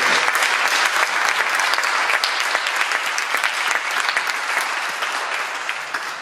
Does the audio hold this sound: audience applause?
yes